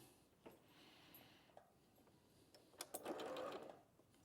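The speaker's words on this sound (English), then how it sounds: "And now I'm going to sew on that diagonal." A sewing machine stitches a diagonal seam on a quilt block, its needle running in a short steady burst near the end, preceded by faint handling clicks and rustle.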